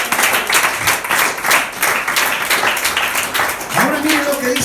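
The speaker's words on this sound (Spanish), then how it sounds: "Vamos a aplaudirlo por Él." A church congregation applauding during a Spanish-language worship service, with steady, dense clapping from many hands throughout and a voice rising over it near the end.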